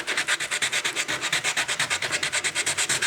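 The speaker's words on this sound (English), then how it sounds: "Anywhere where there's excess of the dowel sticking out, just go ahead and sand it down real well." Sandpaper rubs rhythmically over excess dowel on a teak outdoor rocking chair, with about twenty quick, even back-and-forth strokes close by and no voices.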